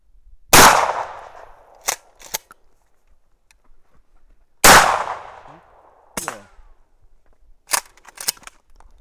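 Rifle shots at 100 m from four shooters using a Tikka T1x, Pallas BA15 and CZ 457: two sharp loud cracks a few seconds apart, each followed by quieter clicks and bolt clatter.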